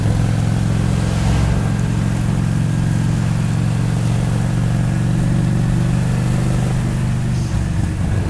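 Honda Shadow VT 600 motorcycle pulling in fourth gear, a loud, steady low engine drone close to the rider with wind noise over it, holding evenly throughout.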